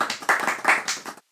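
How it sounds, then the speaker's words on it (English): Light, polite golf clap from a few hands, a short run of soft claps lasting about a second, close and fairly quiet, ending abruptly into silence. "Golf clap."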